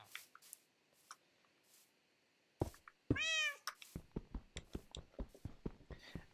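A cat in the video game Minecraft gives one clear, close meow midway, set between scattered soft clicks and taps.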